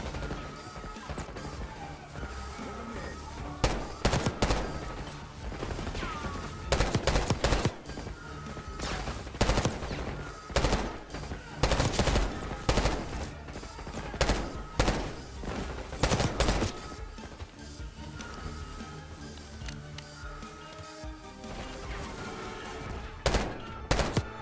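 Rapid bursts of gunfire from guns in the video game Call of Duty Black Ops 6, loud clustered volleys and crashing impacts repeating irregularly over a backdrop of game music and effects.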